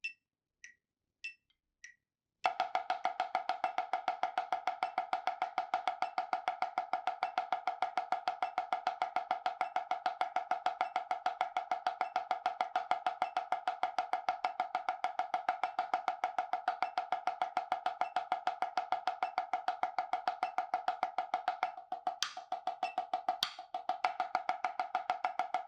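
Quick, even snare drum strokes from a rebound exercise played against a metronome at 100, a fast continuous stream of crisp taps that starts after a few single hits and is fairly quiet, no voices.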